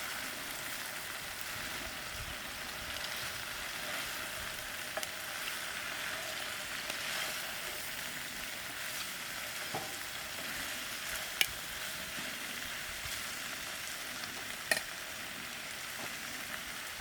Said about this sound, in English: And then I'll stir in this. And let the mushroom cook with its own juices that will be released.